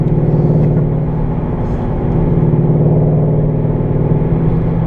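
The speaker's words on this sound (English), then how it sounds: "Basically, it's just a high-performance exhaust." A Ford car with a high-performance exhaust idles and revs at a Lebanon dealership, a loud, steady, throaty drone that holds constant for several seconds with no talk.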